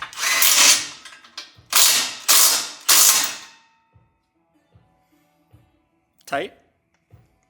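An impact wrench hammers on a rusty bolt in a neglected Nissan 240SX engine bay, three loud rattling bursts in quick succession, followed by quieter clinks and a sharp metallic snap.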